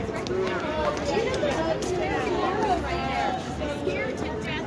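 Dense crowd chatter and babble of many voices swirls around Cliven Bundy after his release following a mistrial, steady and close throughout with overlapping conversations and no single voice standing out.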